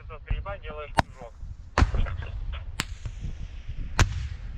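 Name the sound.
gunfire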